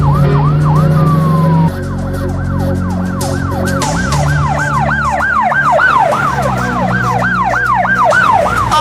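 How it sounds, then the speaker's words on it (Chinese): A Russian police car siren wails loudly and continuously, with a fast, repeating rise-and-fall tone that dominates throughout and has no voices over it. "世界各国常用警车大赏"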